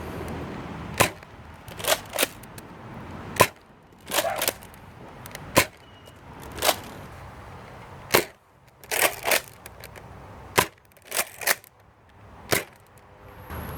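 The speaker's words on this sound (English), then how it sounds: "Up next, we have a stock Mega Magnus firing the standard Nerf." A stock Nerf Mega Magnus blaster fires standard Nerf darts in a string of sharp, loud pops spaced irregularly, some in quick pairs or triplets, with faint room noise between shots and no talking.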